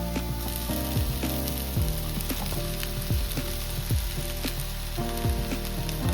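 Cooked rice sizzles and fries in a hot pan for egg fried rice, a loud, constant crackle broken by repeated scraping stir strokes of a spatula, close up with no talking.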